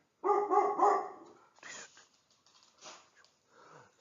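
A dog gives a quick series of close, loud barks, then fainter sniffs and short noises follow in a quiet room.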